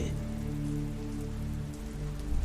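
Steady rain pours at night, a dense continuous patter on surfaces with a low, even rumble underneath, close and unbroken throughout.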